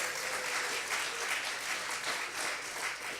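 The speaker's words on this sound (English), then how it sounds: "So give them a round of applause." Applause from a church congregation during a Sunday service with a stage setup, steady dense clapping that fills the whole moment at a moderate distance, with no voices over it.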